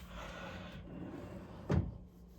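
A hotel room door in an unrenovated Hampton Inn swings shut with one close thud, close by and fairly loud over a steady room hum.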